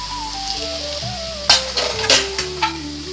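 Chopped onion pieces go into hot oil in a pan as the base for chicken curry, setting off a steady sizzle with a few louder bursts and spoon clinks partway through. A low steady tone sits underneath the frying.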